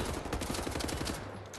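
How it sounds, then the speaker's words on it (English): Rapid gunfire in the Wolfenstein: The New Order game, a dense, loud burst of automatic shots rattling continuously through the whole short moment, with no talking. "where is the shooting coming from?"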